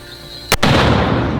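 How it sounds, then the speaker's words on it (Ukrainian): One sharp, loud bang of a mortar firing a round goes off, and a dense roaring rumble follows it and carries on to the end. "Одну міну вогонь. Постріл."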